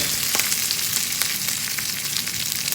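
Chana dal, curry leaves and green chilies sauté in a hot pan, making a loud, dense, continuous sizzle with frequent sharp pops and spatters heard up close and alone.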